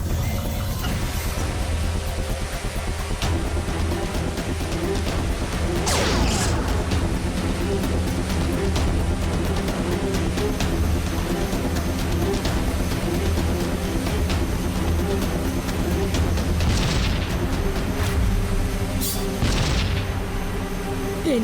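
Cartoon explosions blast across mountains in a kids' animated show: a few sharp, loud booms stand out over a continuous rumbling, crackling background that runs throughout.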